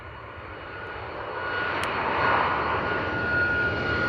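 A Ryanair jet rolls down runway 09 at Bristol Airport on its takeoff run, a steady broadband engine roar heard from a distance that gradually builds in loudness, with no talking.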